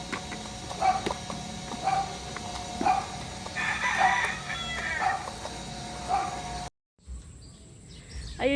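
White Kelso gamefowl crow and cluck in repeated calls through a steady rural background, several birds nearby with one louder crow in the middle, before a brief dropout and shuffling noise at the end.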